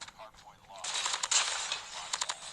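Renetti pistol fire in Call of Duty Mobile crackles in quick bursts of sharp shots, rising after a sparse start into dense rapid volleys close by.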